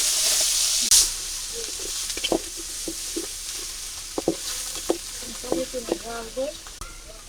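Onion and garlic fry in hot oil in a wok for a desi chicken dish, with a loud splash as they go in and then a continuous sizzle with intermittent clinks and stirring scrapes nearby.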